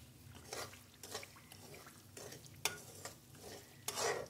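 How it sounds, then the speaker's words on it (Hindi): Semolina roasting in ghee in a pan while being stirred, giving soft scraping and sizzling strokes at a fairly steady pace, with a louder stir near the end, quiet and close. "सूजी को हम घी में तब तक भूनेंगे"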